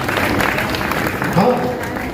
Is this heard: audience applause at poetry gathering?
yes